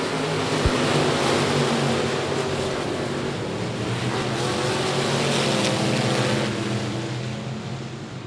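Packs of race cars roaring down the back straightaway at I-37 Speedway, a steady loud engine drone that swells and fades slightly, with crowd and track noise underneath.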